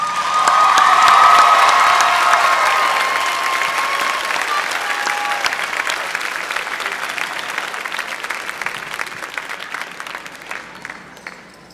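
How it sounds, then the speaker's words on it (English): A graduation ceremony audience gives a big round of applause for the graduates' families, loud and dense at first with some cheers, then slowly thinning into scattered claps as it fades out. "Give them a big round of applause."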